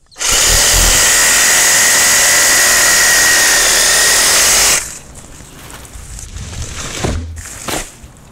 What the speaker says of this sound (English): So first, we're gonna start with the sawzall.